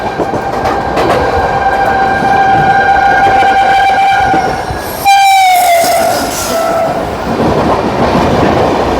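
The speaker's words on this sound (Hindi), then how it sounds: "Ballia New Delhi superfast express, Ballia New Delhi superfast express" The Ballia–New Delhi Superfast Express rushes past close by on the opposite track, its loud rumbling clatter topped by a blaring horn whose pitch drops sharply as it goes by, heard from aboard a fast-moving train.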